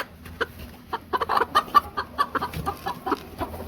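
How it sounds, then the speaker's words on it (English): Silkie hens on a small poultry farm, a series of close, irregular soft clucks and short murmuring calls in quick bursts, with a few higher chirps, over a quiet background and no talking. "The silkies are very broody and sometimes makes it a little difficult to collect eggs."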